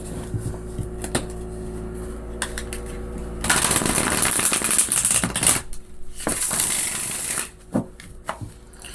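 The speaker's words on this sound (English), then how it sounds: "So I'll just give this a quick shuffle." Tarot cards being shuffled in a quick, dense riffle for several seconds, with a few sharp taps and flicks of the deck before and after; close and fairly loud.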